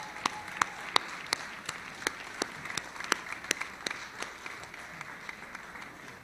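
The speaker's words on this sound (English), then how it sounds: "please, a round of applause for the candidates" Sparse, quiet applause from a debate audience greeting the candidates, a thin patter of individual claps with distinct sharp hits rather than a full roar.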